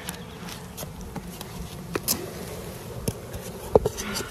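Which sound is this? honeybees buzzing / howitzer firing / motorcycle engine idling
honeybees buzzing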